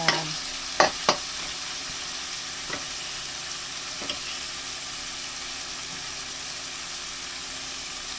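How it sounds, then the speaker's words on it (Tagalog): Chicken sautéing in a pan for a curry with ampalaya gives a steady, even sizzling hiss throughout, broken by a few sharp clicks of a spatula early on, with no talking. "susutayin lang natin muna mga kapalangga yung ating chicken"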